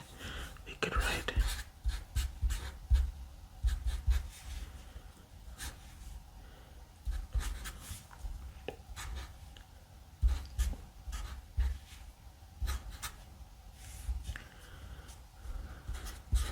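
Sharpie marker squeaking and scratching across paper in short strokes, close and soft, with breathy whispering mixed among the repeated bursts of writing.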